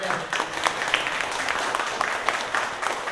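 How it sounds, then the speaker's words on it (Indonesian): Audience applause in a seminar hall, steady dense clapping from a crowd lasting a few seconds, with voices mixed in beneath it. "Kita beri aplaus sekali lagi ya"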